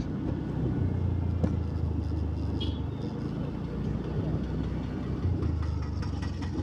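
A vehicle engine idling and running on the road to Lakkom Waterfalls near Munnar: a steady, low, close drone throughout, with no talk.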